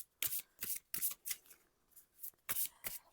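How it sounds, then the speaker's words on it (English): A Coven Oracle witch deck of oracle cards is shuffled by hand in close, crisp bursts of riffling, with short pauses between each pass. "Let me just give them a quick shuffle."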